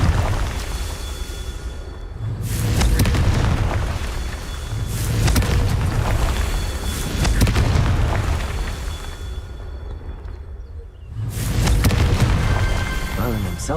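Fire spell explosions from Hogwarts Legacy on hard mode boom repeatedly, four loud broad bursts that each swell and fade over a few seconds, with voice and game sound mixed in.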